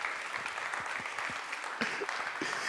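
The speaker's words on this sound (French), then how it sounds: "Est-ce qu'on peut acclamer pour moi?" An audience at a French church service claps steadily and densely for a few seconds, a close, even patter of many hands.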